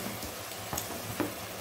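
Tomatoes frying with onions in a pan for a Tamil anchovy fish curry, a steady soft sizzle with a few faint clicks and stirring noises, no talking.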